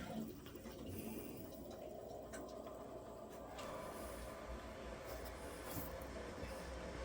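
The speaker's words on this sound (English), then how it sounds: "So again, I still have the hot water tap on." Water runs steadily from an opened hot tap, a continuous faint rushing with irregular sputters as trapped air bubbles out of the line, no voices present.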